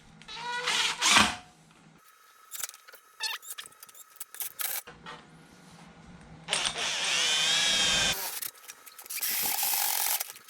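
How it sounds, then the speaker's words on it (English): A hole saw cuts through a small piece secured to a block of wood during ratrod work. Scattered clicks and clanks lead into two loud, sustained grinding bursts separated by a short pause. "Hole saws can get pretty sketchy."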